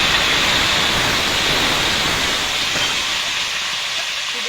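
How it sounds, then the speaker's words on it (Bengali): Pointed gourd pieces drop into hot oil in a wok and set off a loud, continuous hissing sizzle that holds steady and fades only slightly toward the end. "তেল গরম হয়ে গেছে কড়াইতে। এবার দিয়ে দেবো পটল,"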